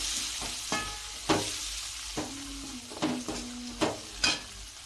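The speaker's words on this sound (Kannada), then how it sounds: "ಈಗ ನೋಡಿ ನಾನು ಹೆಚ್ಚಿಟ್ಟಂಥ ಟೊಮೆಟೊವನ್ನು ಹಾಕೊಂಡು ಹುರ್ಕೋತೀನಿ ರೀ ಇವನು ಒಂದು ಐದು ನಿಮಿಷ ಎಣ್ಣೆ ಒಳಗೆ ಟೊಮೆಟೊ ಫ್ರೈ ಮಾಡ್ಕೊತೀನಿ" Chopped tomatoes fry in hot oil for spicy Karnataka-style upittu, a steady close sizzle punctuated by several sharp stirring scrapes of a spoon against the pan.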